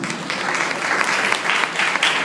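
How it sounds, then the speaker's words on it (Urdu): Steady applause from a church audience during a sermon, a dense, continuous patter of many hands clapping at close to moderate distance, swelling slightly in waves across the short stretch with no voices on top. "تالیاں بجائیے۔"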